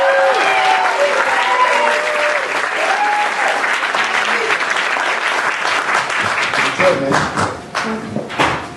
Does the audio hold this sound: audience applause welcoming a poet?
yes